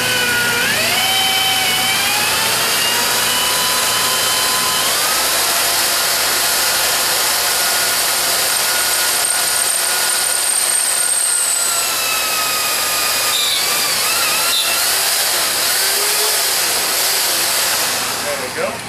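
A power drill boring pin holes through metal, with a loud, continuous close-up whine that rises and shifts in pitch as the bit cuts, running steadily throughout.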